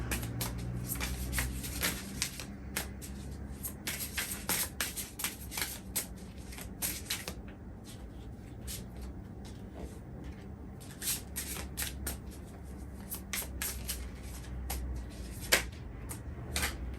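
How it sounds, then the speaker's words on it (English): Tarot cards are shuffled and pulled by hand in a quiet room, giving a run of soft riffling flicks and sharp card snaps in irregular bursts. "I'll pull 3 more cards."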